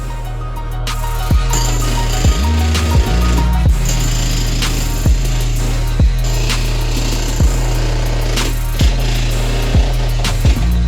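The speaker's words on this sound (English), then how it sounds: "the jackhammer is getting the stuff up" Loud jackhammer breaking up floor tile, pounding steadily close by, with repeated sharp impacts roughly every second over a continuous motor drone; no talking.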